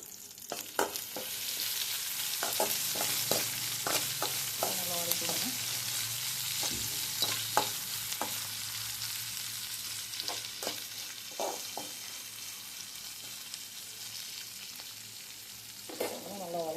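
Food is sautéed in a pan with salt, and a steady, moderately loud sizzle runs throughout. Frequent spatula scrapes and clinks mark the stirring at an uneven rhythm.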